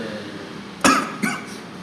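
One sharp cough close to the microphone, then a second, softer cough a moment later, with no talking.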